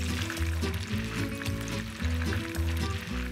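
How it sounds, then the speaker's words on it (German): Hot fat sizzles in a pan as saffron rice goes in, a steady frying hiss partly masked by rhythmic background music. "Das Fett brutzelt. Rein mit dem Reis."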